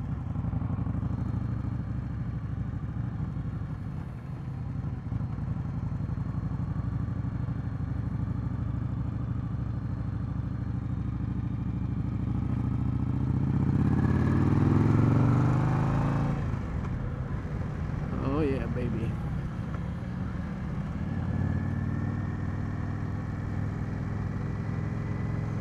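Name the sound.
2020 Indian Scout Bobber motorcycle engine during test ride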